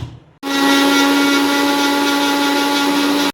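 Electric mixer grinder blending a homemade ice cream mix, starting abruptly into a loud, steady, high whirring drone that holds evenly and then cuts off.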